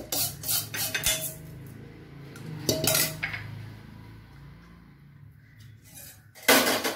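A utensil stirs ragi semiya mixed with sautéed spices in a pan, with intermittent scrapes and clinks against the metal, some sharper and louder than others, close by.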